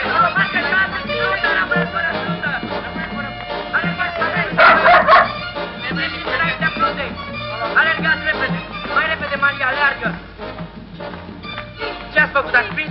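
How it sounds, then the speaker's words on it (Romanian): A dog barks and yips several times in an outdoor scene, with the barks mixed among excited voices and shouting that run through most of the sound. "am auzit un lătrat."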